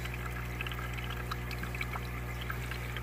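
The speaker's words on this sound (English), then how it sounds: "later I'll add more water in that tank" Water pours steadily into a brine shrimp fry tank, a faint continuous trickle and splash over a low pump-like hum.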